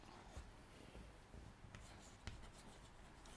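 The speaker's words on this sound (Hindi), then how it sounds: "हम लिखेंगे डेफिनेशन" Faint scratching and tapping of a marker writing a definition on a board, with a few sharper knocks and some soft hand sounds, heard close but quietly and without talk.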